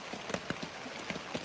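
Light rain falls on a hiker on the Foothills Trail, a soft scattered patter of close, quiet drops ticking irregularly against gear or leaves.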